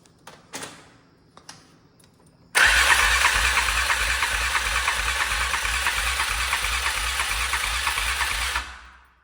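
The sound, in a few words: quad ATV engine cranking, trying to start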